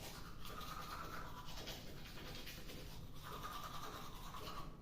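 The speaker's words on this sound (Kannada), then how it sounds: "ಅದಕ್ಕೆ ವಿಡಿಯೋದಲ್ಲಿ ಹಲ್ಲುಜ್ತಿದ್ದೀನಿ" A toothbrush scrubs teeth in quick back-and-forth strokes, a soft continuous bristly rasp heard close and quiet with no talking.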